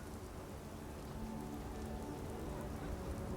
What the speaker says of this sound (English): You should at least get out of the rain, ma'am.